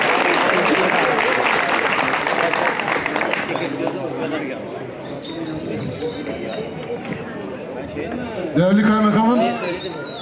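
Audience at a stage event applauding as a guest is invited up, a dense, steady clapping close by that thins out, with voices and chatter mixed in and a speaker's voice near the end.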